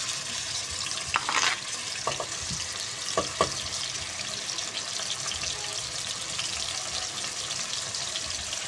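Tomato and green chilies hit frying onions in hot ghee, setting off a steady, loud sizzle with a few sharp clinks and stirring knocks from a utensil against the pan.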